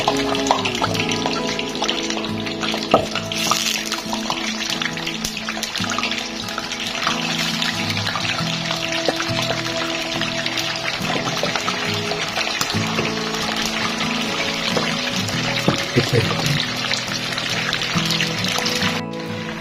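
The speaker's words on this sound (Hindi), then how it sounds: "अब इस चिकन को फ्राई करने में शुरू करते हैं।" Chicken pieces fry in hot oil for a steam roast, giving a steady, dense sizzle and crackle that stays even and close throughout with no talk.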